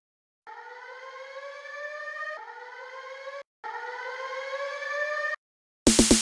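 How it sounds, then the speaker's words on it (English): Alarm siren sample from a house music production, a loud rising wail with a strongly tonal, layered sound in three sustained bursts separated by short gaps, ending in a brief burst of the track's beat. "An alarm."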